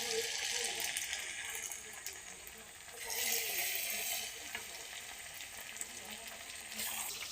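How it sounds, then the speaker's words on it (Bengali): Bombay duck (lote fish) coated in besan batter sizzles steadily in hot oil. The frying hiss is close and continuous, briefly growing louder as more pieces go into the pan. "তেল গরম হয়ে আছে, ওর মধ্যে এই যে লোটে মাছগুলো একটা একটা করে দিয়ে দেব।"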